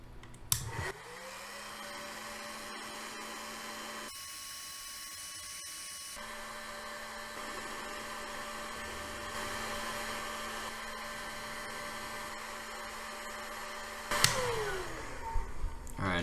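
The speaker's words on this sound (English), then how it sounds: "Now I gotta get this heat gun." A heat gun blows hot air to bend tubing for a PC water cooling loop: a steady, close whirring hum starts after a second, dips briefly, then runs on for about thirteen seconds before clicking off.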